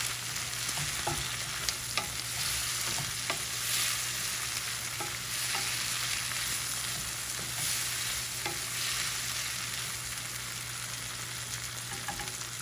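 Vegetables sizzle steadily in a hot pan, with a constant frying crackle and occasional scrapes and clinks of stirring.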